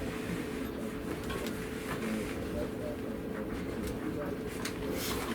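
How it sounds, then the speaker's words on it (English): An upholstery sewing machine back-stitches a customized rear interior panel. It makes a steady, dense mechanical drone that runs without a break from start to finish. "I just want to back stitch this just a couple, just to lock that stitch in place."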